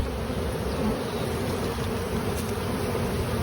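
Honeybees hum in a dense, constant buzz close by at an apiary hive being opened and worked during Demaree swarm control.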